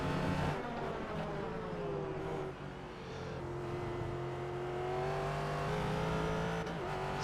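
A V8 race car in the iRacing sim racing game drones steadily at speed, its engine note holding a continuous rising pitch with slight dips, loud and close throughout with no talk.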